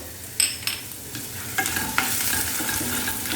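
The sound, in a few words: stirring chopped ginger and garlic in a pan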